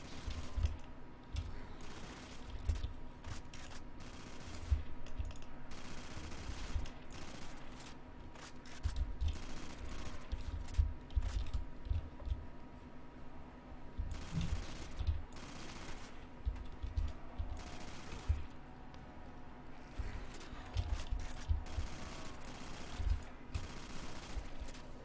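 A weapon in a Call of Duty Zombies game on a Futurama-themed map fires in rapid, uneven bursts of shots over a low, constant background hum. The bursts recur throughout, with no voices.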